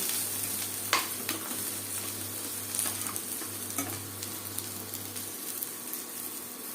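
Okra (bhindi) frying in oil for a dhaba-style bhindi masala, giving a steady, close hiss with a few sharp clicks and scrapes from stirring. A low hum runs underneath, and no one speaks.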